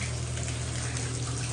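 Water spraying steadily from a shower head in an older Residence Inn hotel room in Baton Rouge, a close, even hiss with a low hum underneath and no voices.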